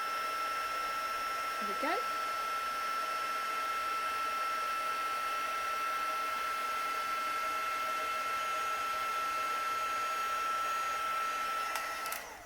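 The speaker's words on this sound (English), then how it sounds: "So just going to heat that now with our heat tool." Electric heat gun blowing steadily at close range to heat a craft embellishment on a card, a continuous loud whirring whoosh with a brief spoken remark over it.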